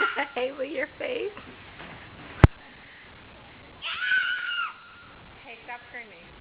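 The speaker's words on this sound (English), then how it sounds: "stop screaming" A young girl screaming and shrieking in short high bursts at home, with an adult speaking firmly around the cries and a sharp bang in the middle.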